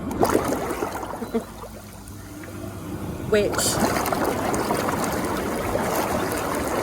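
A heat-controlled hot tub bubbles with steady, churning water noise throughout, while a person talks over it.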